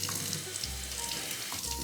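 Red potatoes washed under hot running water in a home kitchen, a steady close hiss of flowing water with a faint splashing texture and no talking.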